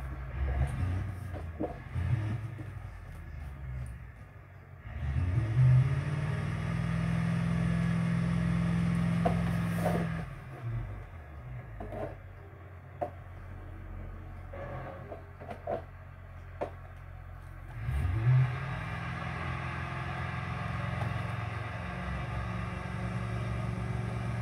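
Engine revving from a sheriff police car in the BeamNG.drive driving game, two sustained rev bursts of several seconds each separated by quieter idling, moderately faint with scattered clicks.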